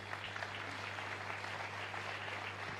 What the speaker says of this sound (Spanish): Otra vez, fuerte aplauso para él